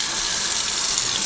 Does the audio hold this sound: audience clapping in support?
no